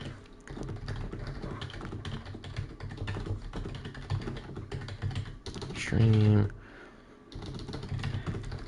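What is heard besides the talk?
computer keyboard typing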